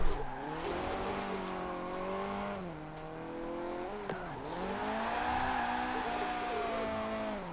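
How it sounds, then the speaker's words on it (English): A Fiat 131 Abarth in the Forza racing game revs high during a drift. The engine note rises and falls in sustained sweeps with brief dips between shifts, loud and close throughout. "I'm revving up way too high there, but who cares?"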